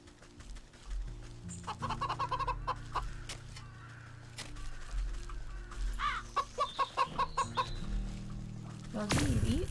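Chickens clucking in the farming video game Wytchwood, short repeated cluck bursts in two clusters over a steady low game music drone, ending with a loud burst of noise.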